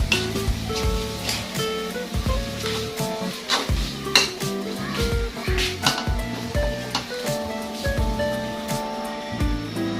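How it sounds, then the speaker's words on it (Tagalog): Pork intestines sautéed for bopis, with utensils clattering against the pan in irregular clanks and scrapes over a low steady cooking noise, close and fairly loud. "Yung isaw niya, yung bituka, igigisa rin natin yan ng maigi para masarap siya mga boss"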